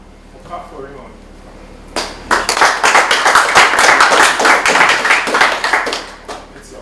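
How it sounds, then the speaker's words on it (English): A crowd at a 2020 talent show claps for Raymond after a short spoken remark. Loud, dense, close clapping breaks out abruptly and holds steady for about four seconds before tapering off. "We'll clap for Raymond."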